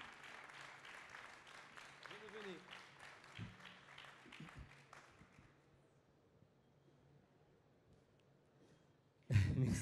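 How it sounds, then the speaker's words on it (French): Applause for store managers at a ribbon ceremony, scattered clapping with a voice over it that thins out and fades to near quiet midway, then a sudden loud burst at the very end. "On peut les applaudir bien fort."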